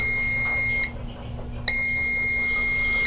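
A multimeter gives a loud, high continuity beep twice across a good fuse, each tone held steady for about a second, with a short quiet gap between them.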